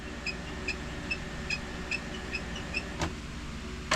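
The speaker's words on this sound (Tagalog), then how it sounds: "Yung tunog niya, head clean na yan." An Epson inkjet printer running a head-cleaning cycle ticks in a steady rhythm of faint clicks, then gives one sharper click, against a low motor hum, close and quiet.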